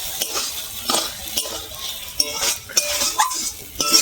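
Potato and spices fry in a pan while a spoon stirs and scrapes through them, producing a soft sizzle broken by quick clinks and scrapes, close up and steady over a few seconds.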